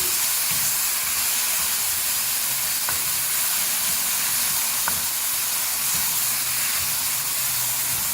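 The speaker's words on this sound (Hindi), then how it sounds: "मीडियम फ्लेम पे इसको मिक्स करेंगे।" 700 g of beef mince with two tablespoons of garlic-ginger paste fries on a medium flame, giving a steady, loud sizzle with a couple of soft clicks from stirring and no voices.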